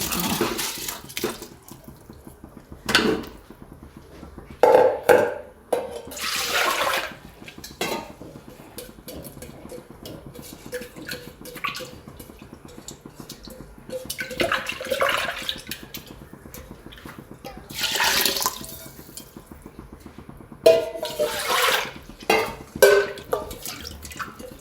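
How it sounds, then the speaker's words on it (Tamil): Water is poured into a cooking pot with rice, giving repeated splashing and trickling bursts between clinks of metal pots and utensils, close by, with no talking. "தண்ணி ஊற்றிக்கலாம்."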